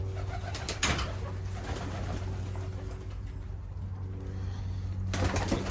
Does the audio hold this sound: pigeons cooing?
yes